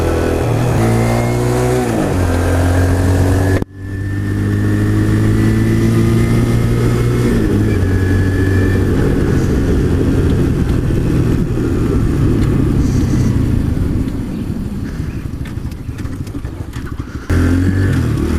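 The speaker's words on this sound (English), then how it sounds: "All right, let's take her home, boys." Chinese motorcycle bought on Amazon with a new engine, ridden close and loud, revving up through gears with rising and falling engine pitch and a brief drop during a shift.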